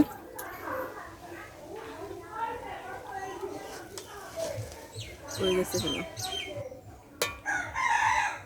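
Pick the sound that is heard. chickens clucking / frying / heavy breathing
chickens clucking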